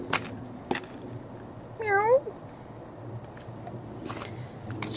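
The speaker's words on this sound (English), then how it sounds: "It's a very chilly kitty cat." A single cat meow rises briefly in the middle, clear but fairly soft, with faint outdoor rustling and light taps around it.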